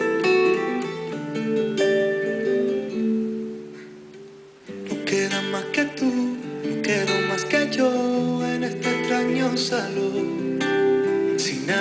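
Acoustic performance of a song, a sustained melodic tune with a soft pause near the middle before fuller playing resumes.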